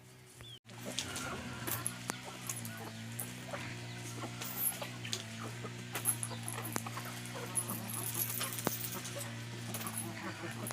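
A sick hen clucks repeatedly on a Ukrainian backyard farm in autumn. Soft, steady clucks run through the whole clip, with scattered sharper calls from other fowl and animals in the background.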